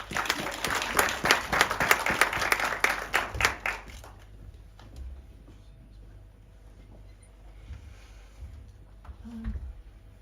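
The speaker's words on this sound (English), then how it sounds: "may we give her a round of applause" Applause at a children's dialogue event greets a welcomed guest, dense clapping for about four seconds before dying away into quiet room noise.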